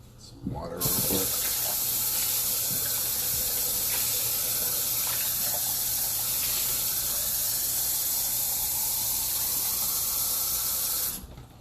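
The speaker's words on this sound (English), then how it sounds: "Some water real quick." A kitchen tap is turned on and runs in a steady, bright hiss of flowing water for about ten seconds before shutting off, close and loud, after a few brief clinks at the start.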